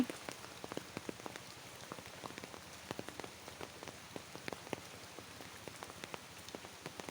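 Steady rain falls on a surface in a village setting on a rainy day, a dense continuous patter with scattered louder individual drops standing out, no voices.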